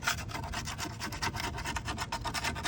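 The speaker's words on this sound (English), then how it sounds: "Take the blade, just kind of scrape it." A robot mower blade from a Kress RTK Mission mower is scraped clean of debris, giving a quiet, close, rhythmic rasping rub repeated in quick short strokes with no talking.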